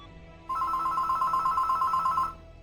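A telephone rings in one continuous trilling burst of just under two seconds, clear and fairly close, with no talking.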